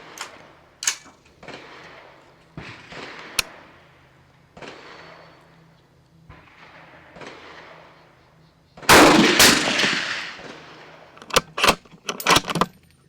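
A rifle fires one loud shot at a target during hunting-style shooting with a thermal scope, preceded by scattered small clicks and handling noises and followed by a few sharp metallic clacks.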